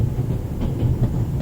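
A train running in The Raven video game, a steady low rumble with faint rhythmic clatter of freight cars on the rails, close and continuous.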